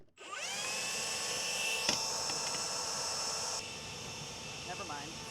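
A high-pitched drill whines steadily and loudly for several seconds while drilling into a fiberglass pool, with a brief sharp catch partway through before it spins down near the end.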